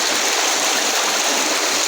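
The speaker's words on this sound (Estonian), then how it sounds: "see on ikkagi kraavi vesi, mis tuleb läbi kihtide" Ditch water seeping out through rock layers in an old quarry at Harku and running as a hidden stream, a steady, loud, close rushing and gurgling flow with no voices.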